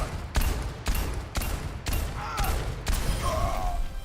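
Repeated gunshots in a competitive shooter game, sharp loud bursts roughly every half second with brief tonal game effects between them, no talking.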